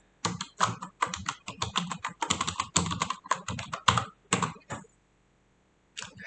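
Fingers typing a password on a computer keyboard, a quick close run of crisp key clicks for about four seconds, a pause, then a couple more taps.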